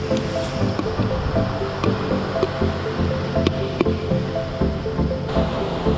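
Ocean waves wash in at a camp by the sea while popcorn is made, a steady rushing surf with wind buffeting the microphone and occasional small clicks and pops over it.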